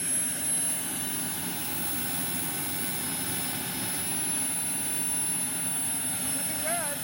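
A Boomerang Atom model jet turbine idles steadily near 49,000 rpm, a loud continuous close-up whine and rush holding even throughout, with a faint thin tone running high above it.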